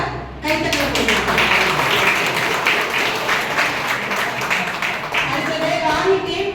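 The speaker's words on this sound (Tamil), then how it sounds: "ராஜா டீமுக்கு ஒரு பலத்தை கைத்தட்ட போடுங்க" A training-session audience gives a team a round of applause in a room, with steady, dense clapping that holds for several seconds and a voice heard over it.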